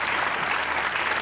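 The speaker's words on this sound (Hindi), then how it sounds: "तालियां होनी चाहिए।" Steady audience applause on a Hindi-language interview comedy show, dense and continuous throughout the short burst, moderately loud with no voices on top.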